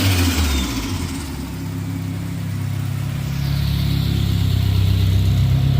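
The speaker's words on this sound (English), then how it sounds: "start the car one more time so that way you guys can hear how it sounds with the Terpskis" A Nissan S13 with a turbocharged single-cam KA24E engine starts and revs, its low rumble rising and swelling steadily close by before settling into a raised, throaty drone.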